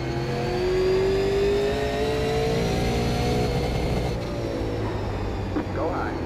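A super late model race car engine roars on track at Southern National, a loud continuous drone that rises in pitch as the car accelerates, then settles into a steady high whine without any talking.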